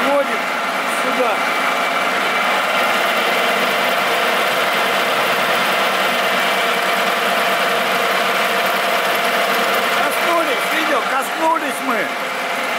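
A lathe runs steadily while turning a Morse taper, a continuous close mechanical hum with whining tones, and someone talks over it.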